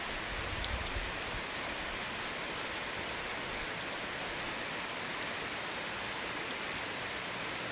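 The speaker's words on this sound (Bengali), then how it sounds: "বৃষ্টি হচ্ছে এখনো" Heavy rain pours steadily outdoors during the rainy season, a dense, continuous hiss of water on surfaces with no voices, unbroken from start to end.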